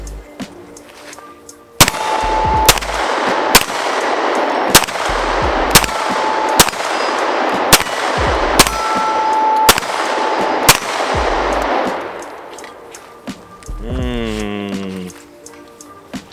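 A CZ Shadow 2 pistol fires about ten sharp, loud shots in an even, fairly quick rhythm outdoors, each crack ringing out briefly before a short whistle-like sound at the end.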